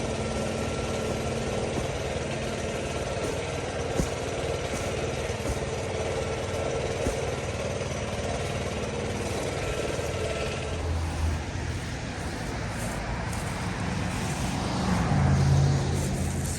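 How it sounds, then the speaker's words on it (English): A leaf blower engine runs steadily while blowing debris after holly planting, a continuous drone that swells louder near the end. "take the blower and blow all this"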